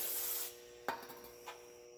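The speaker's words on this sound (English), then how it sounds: "I'm going to wipe it out again with the used-ish rag" Rear wheel hub of an M35A2 military truck wiped out with a used rag, a short hiss of spray then a couple of close, quiet rubbing swipes, with no talking.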